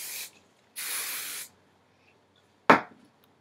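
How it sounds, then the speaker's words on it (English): Hairspray hisses onto hair in three bursts: a quick puff, a longer spray of under a second, and a brief sharp spritz after a pause, all close and crisp. "So I'm going to take my hairspray."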